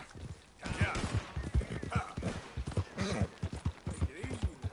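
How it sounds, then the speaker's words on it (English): A horse gallops in a rapid, rhythmic run of hoof thuds, close and fairly loud, with voices mixed in over the hoofbeats. "Corre, caballo, corre."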